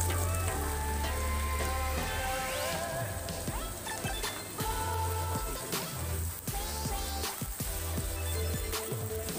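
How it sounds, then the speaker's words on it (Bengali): Chopped onions sizzle steadily in a pan over low heat while chicken bharta is cooked, a continuous close frying hiss with soft stirring scrapes, underscored by background music. "পেঁয়াজগুলিকে 2-3 মিনিট হালকা আঁচে ভেজে নিতে হবে।"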